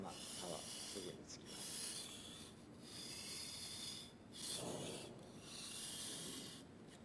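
A knife is drawn along a Korin Chef's Edge sharpener in long, repeated strokes, each a soft, raspy rub lasting a second or so, separated by brief pauses, quiet and close.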